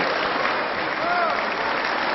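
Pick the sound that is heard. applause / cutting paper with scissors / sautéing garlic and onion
applause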